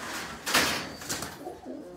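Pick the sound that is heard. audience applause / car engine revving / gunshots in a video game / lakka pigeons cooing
lakka pigeons cooing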